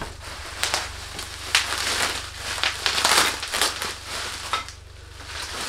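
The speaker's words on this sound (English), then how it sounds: "let's get unwrapping here" Packaging is unwrapped from a Krokus 66 Color darkroom enlarger, with close crinkling and crumpling of wrap in irregular bursts and some light handling knocks over a low steady hum.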